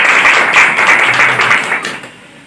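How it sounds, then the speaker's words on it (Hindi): A crowd at an indoor celebration of a saint's birth anniversary claps together in a dense, bright patter that holds for about two seconds, then thins and fades out. "जोरदार तालियों से स्वागत"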